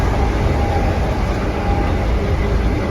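Inside a moving Class 319 electric train in London, a continuous low rumble of wheels and carriage runs steadily throughout, with a faint steady whine above it and no talking.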